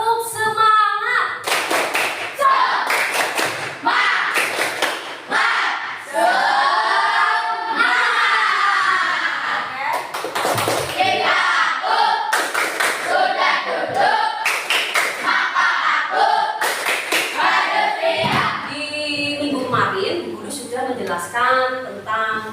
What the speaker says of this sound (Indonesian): guru ingin dengar coba tepuk semangat kalian di pagi hari ini